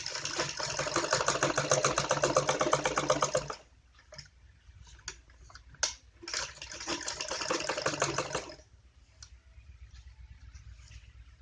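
Sewing machine stitching a child's long gown, running in two long bursts of rapid, steady stitching separated by a quiet pause, close and loud with no talking.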